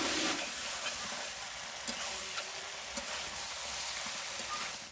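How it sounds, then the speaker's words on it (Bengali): Chicken masala fries in a pan on a slow flame while it is stirred, giving a dense crackling sizzle with soft scraping under it and no talk. "কষানোর সময় আস্তে আস্তে করে জাল দিতে হবে ভালো করে নেড়ে চিড়ে"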